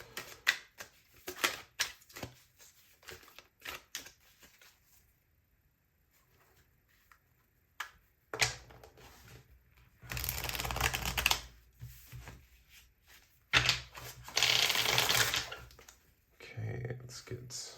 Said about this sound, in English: Let's get one more hard shuffle, and then I'm going to pull these cards.